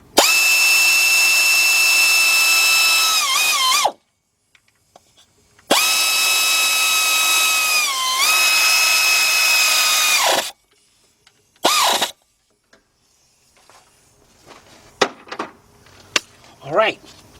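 A power tool tightens bolts with a 12mm deep socket during timing belt work on an Acura SLX or Honda Passport, loud whirring bursts of about four seconds each, the pitch dipping as the bolt seats, then a short burst and quieter clinks.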